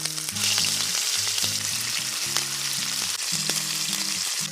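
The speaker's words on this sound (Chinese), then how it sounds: "煎锅热了，放黄油，" Lamb chops fry in butter in a large pan, giving a strong, continuous close-up sizzle from start to finish, with soft musical tones running underneath and no one speaking.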